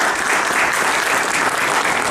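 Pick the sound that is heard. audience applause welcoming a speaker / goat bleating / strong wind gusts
audience applause welcoming a speaker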